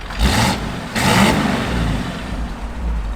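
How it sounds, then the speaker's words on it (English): A 1955 Chevrolet Bel Air engine revs twice in quick bursts, each rising roar dropping back to a low, rough idle, close by with no voices. "Give it a little rev."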